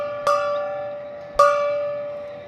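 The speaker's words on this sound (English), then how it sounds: "It is a home run gong as Betts circles the bases" Two loud ringing strikes of a baseball stadium home run gong, spaced about a second apart, each a sharp hit followed by a long sustained metallic tone that slowly fades.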